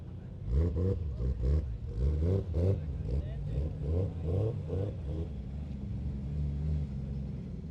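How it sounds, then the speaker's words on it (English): A Toyota Supra pulling out at an outdoor cars-and-coffee meet, its engine burbling and revving in rhythmic pulses at moderate distance before settling to a lower rumble, with people talking over it. "here we got a Supra pulling out"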